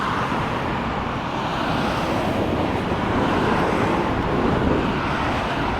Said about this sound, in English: we're in the pedal assist 5 and we're going to go full throttle to see what our top speed is